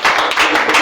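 A church congregation claps during a lively Sunday service, a dense, steady wash of applause from many hands, loud and close, in a brief burst.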